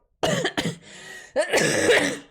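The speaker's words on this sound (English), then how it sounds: "I have to cough." A couple of sharp coughs, then a pause with a faint hiss, followed by a longer rough throat-clearing cough burst, close and loud.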